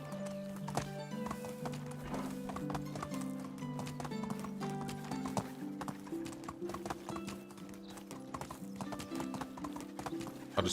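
Horse hooves clip-clopping steadily during a ride in the medieval video game Medieval Dynasty, a continuous rhythmic trot with occasional whinnies under game music.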